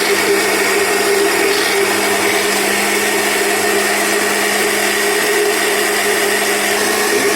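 An electric blender whirs steadily as it mixes homemade shawarma white sauce. The motor drones loud and close with a constant pitch from start to finish and no pauses or voices.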